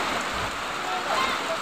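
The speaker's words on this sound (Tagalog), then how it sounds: "Grabe, lumakas na naman yung ulan mga kaibigan" Heavy rain falls in the province of Agusan Marsh, a dense continuous hiss of drops hitting surfaces close by, with faint voices in the background.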